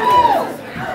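Crowd at a live band show cheering and whooping for the bass player after his introduction, a loud, dense burst of voices with one rising yell, fading slightly toward the end.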